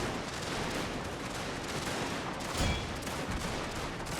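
Dense, continuous battle din of massed musket gunfire and cannon fire in a Prussian-era strategy game, a steady roar with a sharper boom near the middle and no voices.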